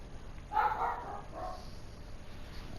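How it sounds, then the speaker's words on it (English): A pet dog barks a few times indoors, with a couple of short, fairly faint barks that fade out over a quiet background hum. "after my dog stops barking"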